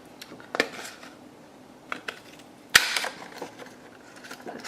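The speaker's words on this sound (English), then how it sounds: "Punch him out of some pattern paper." A butterfly-shaped craft punch cuts through patterned paper: a sharp, close snap stands out among a few lighter clicks and paper handling sounds, with no one talking.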